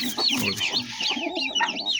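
Close, busy sounds of a newly hatched chicken chick with a pigeon: soft clucks and high, repeated peeping chirps overlapping in quick succession.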